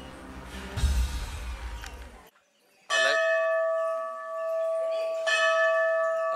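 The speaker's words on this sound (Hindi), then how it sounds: "जब घंटा बजता है तो उसका आवाज है।" A metal temple bell at Ganeshgule Ganpati Mandir in Ratnagiri is struck twice, giving loud, ringing strikes with long sustained tones that hang and fade, after a burst of rumbling background noise.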